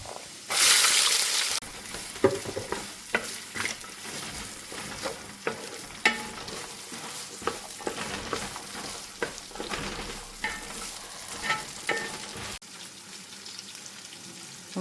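Ginger sizzles in hot oil in a pan for a kiwi pickle, starting with a loud burst of frying followed by steady crackling and repeated stirring clinks.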